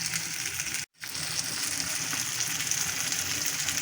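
Chicken fries in a pan with a dense, even sizzle, loud and close, broken once by a sudden brief silence before the crackling resumes steadily.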